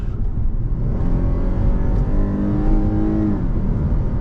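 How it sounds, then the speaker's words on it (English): A 2007 Lexus GS 350's V6 engine, with 275,000 miles, revs up strongly at half throttle, its rising hum climbing in pitch for a few seconds, then easing off, heard from inside. "The V6 still sounds great. That was about half throttle, pulls strong."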